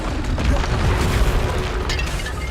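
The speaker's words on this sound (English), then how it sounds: "Bombarder." Explosions from the Bombarder spell in Hogwarts Legacy, a dense, rumbling booming blast that stays loud and steady over the whole stretch, with no clear talk.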